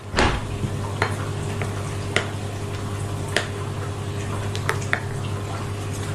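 A spoon stirs eggless cake batter in a bowl, making soft steady mixing sounds over a low hum, with several sharp clinks of the utensil against the bowl.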